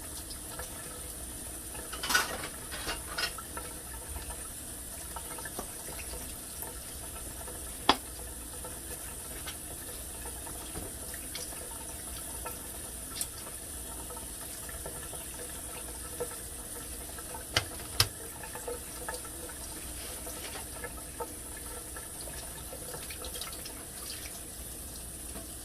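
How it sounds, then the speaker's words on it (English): Tap water runs steadily over raw pork chops in a kitchen sink, a soft continuous hiss with occasional faint clinks and splashes. "I'm rinsing off the pork chops."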